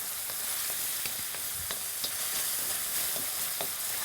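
Onions deep frying with salt in a pan, giving a steady, fairly faint sizzle with scattered pops and crackles and no talking.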